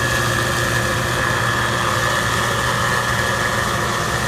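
A grain dryer runs on a farm during harvest, putting out a loud, steady mechanical drone that holds unchanged with no pauses.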